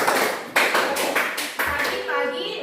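A seventh-grade class at a vocational junior high doing a rhythmic spirit clap, with several bursts of claps in a set pattern and children's voices chanting along.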